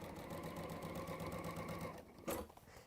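A sewing machine stitches quilt fabric in a continuous close whir for about two seconds, then stops with a short clatter.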